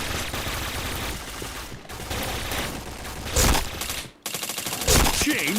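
Rapid game gunfire in a first-person shooter, dense bursts of automatic shots with brief pauses and louder heavy blasts, close and loud, with faint voices underneath.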